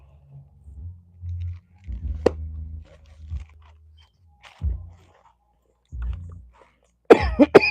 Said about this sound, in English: I'm sorry for coughing in your ear.